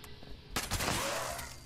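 A explosive pump-action shotgun in Fallout 76 fires, a near loud blast at the half-second mark followed by a booming, rolling tail and further crackling detonations, with no talk over it.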